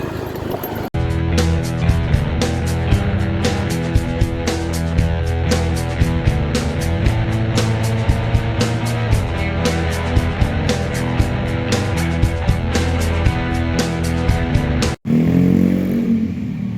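Honda Beat FI scooter engine held at full throttle at maximum speed, with a fault causing loss of power from high fuel pump pressure. It gives a loud, steady high-revving drone with rapid ticking clatter, then cuts briefly before resuming.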